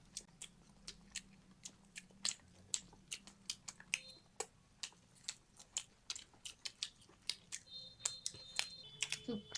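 Veg Manchurian rice being eaten in an eating challenge, with a quick series of close, crisp crunches and bites popping out at an irregular pace over faint background sound.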